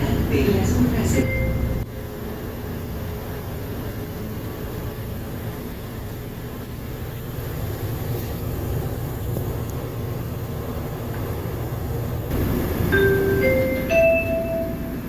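An automated airport terminal train in Dallas pulls in at Terminal A with a steady low rolling rumble and faint hiss. Brief tonal chimes sound near the end, and voices are present underneath.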